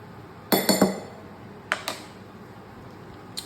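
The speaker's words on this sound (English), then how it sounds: "so we're going to give this a good mix" Spoon or utensil clinking against a bowl while spices are stirred together for a spicy chicken pizza topping, a quick cluster of three bright clinks followed by two softer taps and one faint final tick.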